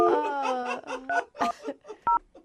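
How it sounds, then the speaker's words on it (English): A telephone number is dialed on a touch-tone keypad, giving a few short separate beeps spaced about half a second apart. The beeps are mixed with voices on a radio show. "All right, I just dialed the phone number."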